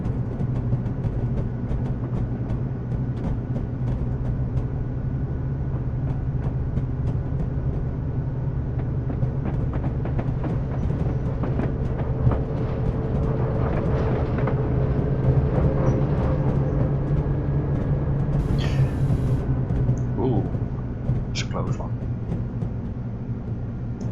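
Class 55 diesel locomotive in Train Simulator 2017 on the Weardale & Teesdale line, a steady low engine drone with rail rumble building as it accelerates, with a few brief sharper clanks near the end.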